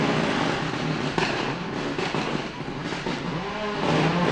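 Black Ford Escort rally car, 2001 Lark in the Park rally at a hairpin, engine roaring steadily and loud throughout with rising revs near the end.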